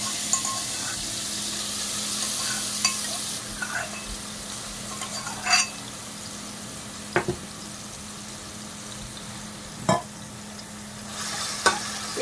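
Liver fries with crushed ginger, garlic and coriander in a steady sizzle, with stirring clatters and scrapes at intervals and a faint voice now and then.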